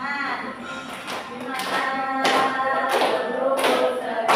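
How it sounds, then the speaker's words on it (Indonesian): Rhythmic hand claps keep time with a children's song in a classroom lesson, a steady pattern of taps alongside singing voices. "Sambil tepuk tangan."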